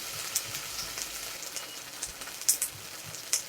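Ginger sizzles in a hot wok, a steady crackling hiss at moderate volume with a few louder pops and no voices.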